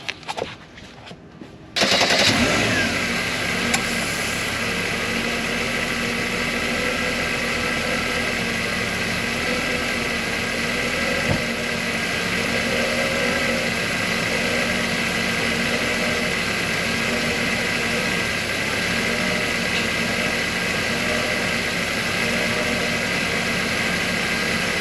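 A Mercedes 300SL R129 idles with its air conditioning compressor engaged, a steady loud mechanical whine and rattle that starts abruptly after a brief quiet opening and holds evenly for the rest of the time.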